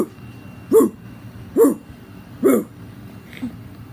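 A person imitates a dog's bark with three evenly spaced, loud, sharp vocal barks followed by a fainter fourth, close to the microphone with a quiet background.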